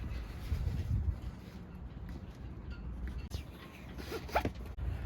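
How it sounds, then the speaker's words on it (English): Electrical tape pulled and wrapped around a rope end about a hand's width back, a marina rope-splicing job: a steady zipper-like ripping and crackling, close and moderately quiet, with a couple of brief thumps near the end. "I'm gonna put some electrical tape or some type of tape"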